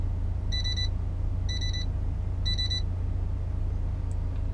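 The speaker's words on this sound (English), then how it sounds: "Well, good, my alarm test works" A phone alarm rings with three short, even electronic beep bursts about a second apart. It is moderately loud over a steady low background hum, with no talking.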